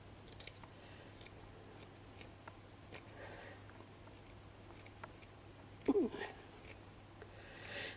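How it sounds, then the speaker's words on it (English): Sharp snippers cutting felt, giving soft, sparse snips close by with one louder crunching cut midway, over a faint steady hum and no speech. "this is felt I'm cutting"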